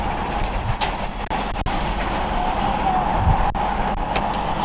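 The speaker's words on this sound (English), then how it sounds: "So we've got the train station just here." Train passing at the railway station in Dronfield, a steady rumbling roll of rail cars with faint clicks, heard continuously at moderate distance.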